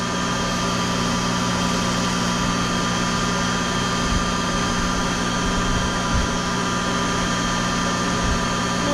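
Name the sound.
high speed lathe running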